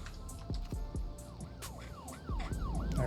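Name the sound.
ambulance siren in Cities: Skylines 2 video game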